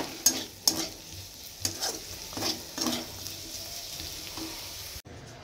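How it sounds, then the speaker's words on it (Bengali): Vegetables such as beans and carrots are fried in a pan, with a steady sizzle under repeated close clinks and scrapes of a stirring utensil against the pan, then an abrupt stop. "এগুলো সব ভেজে নিচ্ছি।"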